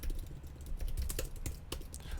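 Typing on a computer keyboard while entering HTML code, with a continuous run of close, fairly quiet key taps over a low background hum and no talking.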